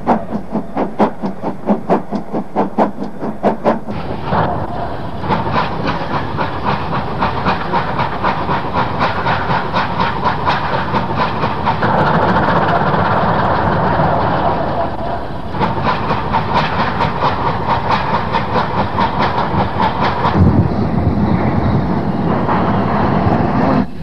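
A British steam locomotive pulls out of a station, loud and close, starting with rapid sharp exhaust beats, then settling into continuous hissing steam and rumbling with rhythmic chuffing and wheel clatter throughout.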